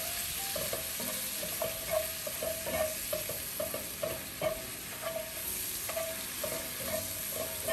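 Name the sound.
bacon pieces and mushrooms frying in a pan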